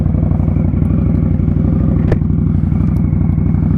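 An Indian Scout Rogue motorcycle fitted with an RCX aftermarket exhaust runs steadily at a deep, throaty idle, loud and close, with one brief sharp click partway through and no voices.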